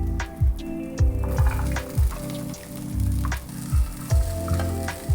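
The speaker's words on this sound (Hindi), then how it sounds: "अनियन कैरमलाइज हो चुका है एंड इसमें हम डालेंगे फूल गोभी, बीन्स एंड गाजर" Cauliflower, beans and carrots fry with caramelized onion, crackling and sizzling steadily while a spoon stirs them in regular low thumping scrapes, close and moderately loud.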